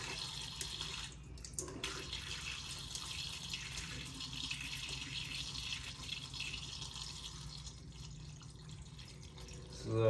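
Coolant pours steadily from the radiator of a 2003 Suzuki LT-Z400 quad, a continuous faint splashing stream with a short gurgle partway through.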